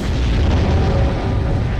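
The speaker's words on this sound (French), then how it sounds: "Cette explosion vaut son pesant d'or." A loud explosion from a MythBusters diamond-themed experiment, heard as a heavy, sustained low rumble and roar filling the whole moment, close and powerful with no speech.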